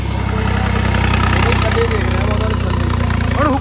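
A tractor engine idles loudly and close by with a steady, throbbing low rumble, and a voice briefly rises over it near the end.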